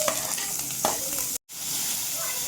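Garlic, chili, onion and vegetables sizzling in hot oil, a dense, steady frying hiss with a few stirring scrapes, close and loud, with a brief cut in the middle.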